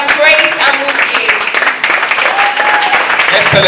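Loud, sustained audience applause at the MindThePlastic Naija Challenge finale at the University of Lagos, welcoming Madam Grace Amusie, with dense clapping and voices mixed in throughout.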